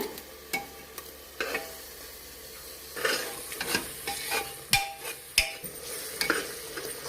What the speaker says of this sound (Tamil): நல்லா கிளறி விட்டணுங்க, இந்த மாதிரி வருங்க.